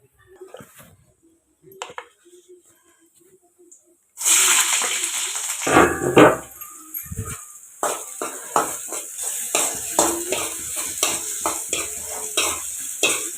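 Chana dal, peanuts, urad dal, onion and green chillies frying in a pan for upma: quiet clinks at first, then a sudden loud sizzle with brisk spoon stirring and scraping, close and busy.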